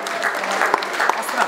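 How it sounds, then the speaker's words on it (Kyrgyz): Guests clap together at a Kyrgyz wedding send-off celebration for the bride, a steady dense patter of applause running throughout with some voices mixed in. "Кол чабуулар."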